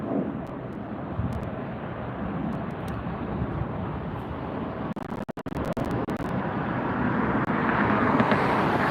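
An Alaska Airlines jet arriving at LAX roars steadily on approach, a broad rumbling jet noise that grows louder toward the end, mixed with wind buffeting the microphone and a few brief clicks.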